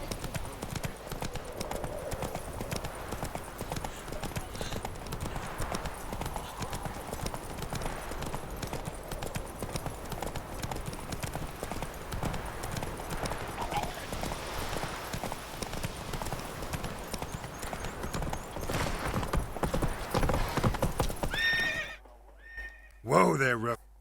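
Roach, the horse in The Witcher 3, gallops with a continuous clip-clop of hooves and gives a neigh, while voices talk over the ride before the sound cuts off near the end.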